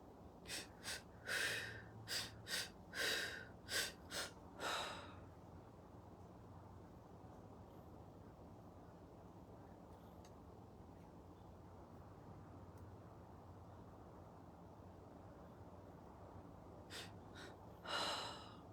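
Deep, slow breaths come up close, first as a run of about eight rhythmic inhales and exhales, then a long quiet stretch, and finally one more breath.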